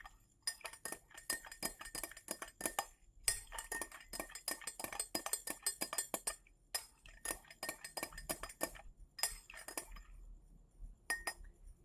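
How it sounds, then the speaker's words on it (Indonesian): A spoon clinks repeatedly against a glass container while food-coloring solution is stirred during a lab practical on preparing solutions, in quick rhythmic bursts separated by short silent pauses. "Setelah itu kita aduk kembali."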